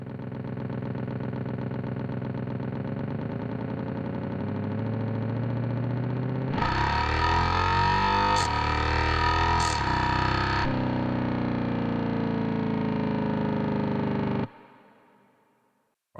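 Synthesized Dodge Charger Scat Pack engine built in FL Studio, droning steadily and then surging into a loud, buzzy acceleration with rising tone before cutting off abruptly.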